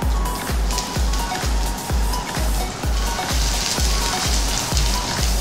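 Mustard seeds spluttering in hot oil along with urad dal, chilies and ginger, a dense crackling sizzle punctuated by regular low thumps, close and continuous.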